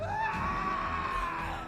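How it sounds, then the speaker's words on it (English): A dramatic scream rings out in Pathfinder: Kingmaker, one loud, sustained yell that holds steady for nearly two seconds before trailing off, with a faint background din beneath it. "Lovely dramatic scream."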